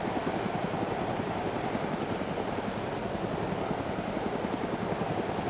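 A biplane engine in the video game DayZ drones steadily and loudly throughout, a continuous rapid propeller chop with no talk over it.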